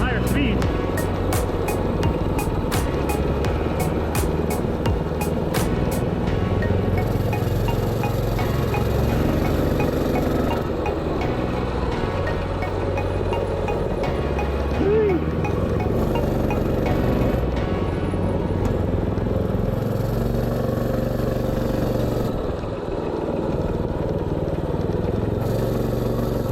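A 224 Mega Moto minibike runs at top speed, its small engine a loud, continuous buzzing roar mixed with wind rush, close by, with a voice briefly audible over it.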